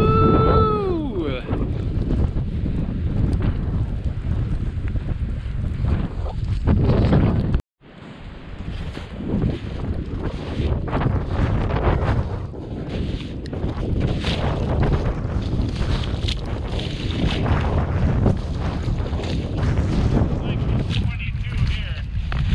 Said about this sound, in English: Ooh, that wind is picking up now.